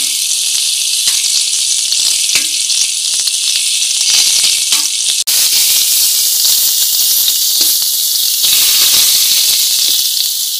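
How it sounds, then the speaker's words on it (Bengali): Pointed gourd (potol) slices fry in a pan of hot oil with a loud, dense, continuous hiss and sizzle that shifts briefly midway, close and with no voices. "বন্ধুরা এই পটল ভাজা এখনই আরম্ভ হলো।"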